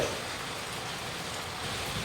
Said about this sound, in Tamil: நம்ம தோட்டம் ஃபுல்லாக மழை.